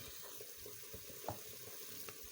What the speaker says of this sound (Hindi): देखिए पानी हमारा बहुत अच्छे तरीके से उबल गया। अब मैं चावल डाल दूँगी।